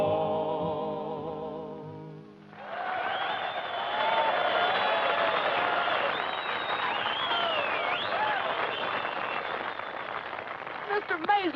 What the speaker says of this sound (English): Mr. Maisley, did you hear that crowd cheering?